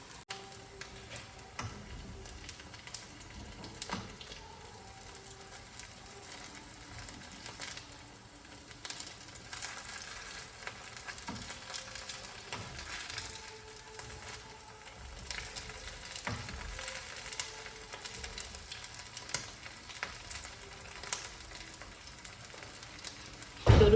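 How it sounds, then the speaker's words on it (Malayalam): Vegetable nuggets deep frying in hot oil, a soft, steady sizzle and crackle running continuously at moderate volume with no talking. "അപ്പോൾ നമുക്കിതൊന്ന് ഫ്രൈ ചെയ്തെടുക്കാം."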